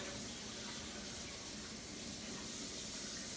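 A Vitamix S50 blender container is rinsed under a running tap, giving a steady, close gush of water that runs without pause and without talk.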